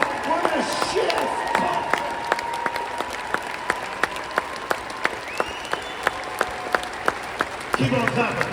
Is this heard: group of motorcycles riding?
no